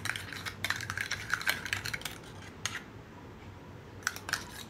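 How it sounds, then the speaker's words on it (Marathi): A spoon clinks and scrapes inside a mixer jar while stirring chutney with a little water, giving a few sharp, irregular metallic taps over faint background hiss. "तर त्याच मिक्सरच्या भांड्यामध्ये थोडंसं पाणी घालून मिसळून घेऊयात."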